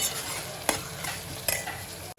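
Onions frying in a pan until golden brown for a trotters curry, a dense steady sizzle close by with a couple of brief stirring scrapes, then a sudden cutoff at the end.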